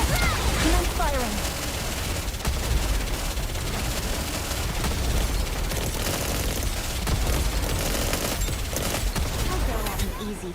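Dense, rapid gunfire in the video game Nikke, sustained bursts of automatic shots and impacts rattling on without pause, loud throughout with voices over it.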